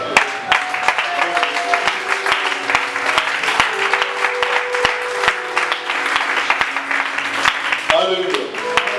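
A church congregation applauding loudly and steadily, a dense wash of clapping under a speaking voice and a sustained musical tone.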